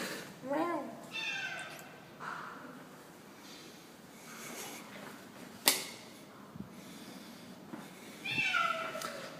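A cat meows several times, up close, while exploring a new flat, with quiet pauses, a sharp click and faint rustling between the calls; a person's voice is also present.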